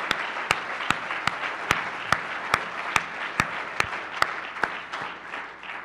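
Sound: audience applause for conference sponsors

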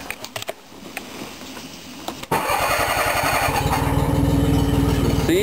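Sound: small engine starting and running on homemade project vehicle

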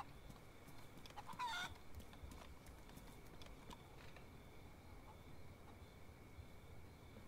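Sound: chicken in the video game DayZ

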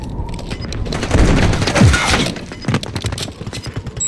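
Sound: Semtex grenade thrown and exploding in Call of Duty: Modern Warfare III, a video game

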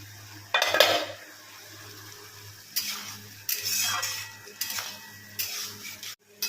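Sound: adding water and fish-roe fritters to curry in pan

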